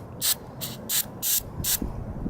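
Carburetor cleaner sprayed into a scooter carburetor in five short, loud hissing bursts spaced evenly, each spray lasting a fraction of a second with quiet gaps between.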